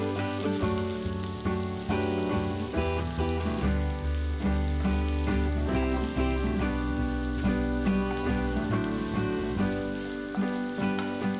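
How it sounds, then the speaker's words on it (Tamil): Thinly sliced large onion frying in a little oil in a pan for a chickpea biryani, a steady close sizzle under a dense, continuous background. "ஒரு பெரிய வெங்காயம் மெலிசா நறுக்கினது இதில் போட்டு பொன்னிறம் ஆற வரைக்கும் நல்லா வதக்கணும்"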